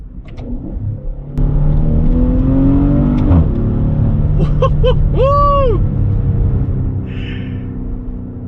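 A 2021 Maserati Levante V6 turbo engine revs hard and climbs in pitch as it accelerates holding its gears, a loud, sustained growl close by, with a brief chirping sound near the end.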